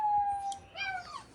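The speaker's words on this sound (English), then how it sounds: "Let's go get the puppies so they stop screaming." Puppies whine and howl close by in a short burst, with one thin, drawn-out high cry followed by overlapping wavering yelps and whimpers.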